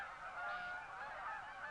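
A dense flock of Canada geese honks continuously as the birds gather before winter, many overlapping calls forming a steady, moderately distant chorus.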